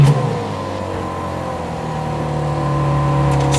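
A Porsche 993 2S X51 scale model runs with a steady, loud engine drone close by, and the pitch and volume rise slightly toward the end.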